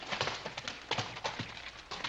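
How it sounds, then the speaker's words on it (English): Hooves of a lame horse clip-clopping as a rider arrives: faint, fairly quick and slightly uneven hoofbeats on hard ground, with no voices. "You got a lame horse."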